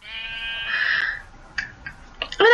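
Sheep bleat in Minecraft on a generated island, a few short harmonic bleats rising and falling, close and clear, with no talking.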